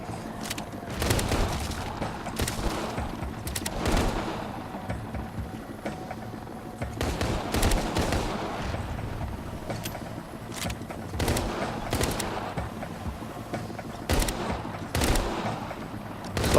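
Repeated bursts of gunfire crack out while shooting zombies in the video game Arizona Sunshine, with irregular volleys of shots spread throughout and short pauses between clusters.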